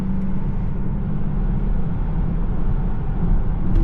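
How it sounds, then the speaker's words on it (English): Wind and tire noise inside a 2024 Tesla Model 3 Performance cruising at around 130 to 140 km/h, a steady low, broadband cabin roar with no voices. "Now I'm hearing a little bit more wind noise and some sort of, I think it's a tire noise."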